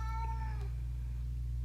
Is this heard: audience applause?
no